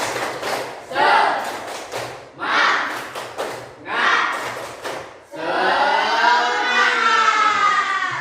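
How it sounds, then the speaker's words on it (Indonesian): A school class performs a rhythmic group clapping cheer, with bursts of chanted voices and claps in repeated phrases, ending in a sustained loud round of clapping and cheering close by. "Kita tepuk semangat dulu, tepuk semangat."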